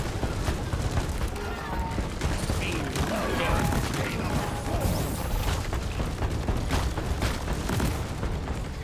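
Airstrike explosions in the video game Deep Rock Galactic land as a dense, continuous barrage of booms and rattling impacts, loud throughout, with voices mixed in.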